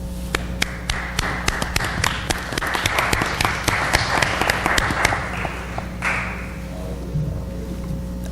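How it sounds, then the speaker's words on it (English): Scattered applause at a city council meeting, uneven claps of varying loudness rising to a denser patch midway, then thinning into sparse taps and a few thuds, set against a steady room hum. "I think Ozzie and the group deserves a round of applause tonight"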